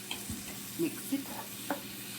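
Tomatoes with salt sizzle softly in a frying pan for butter chicken while a spoon stirs them, giving a few quick scraping strokes over the low steady frying hiss.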